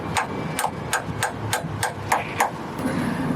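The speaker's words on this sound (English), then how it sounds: "Now I'm going to hammer in the spigot bearing." A hammer tapping a spigot bearing into place through a 24mm socket during a manual gearbox swap on a Lexus IS300, eight sharp, evenly spaced metallic taps close by with no talking.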